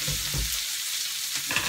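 Zucchini fries in a pan with a steady, close hiss and crackle, broken by a couple of low stirring bumps and no voice.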